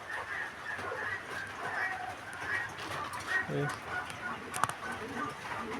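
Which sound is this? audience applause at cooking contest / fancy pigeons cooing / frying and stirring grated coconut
fancy pigeons cooing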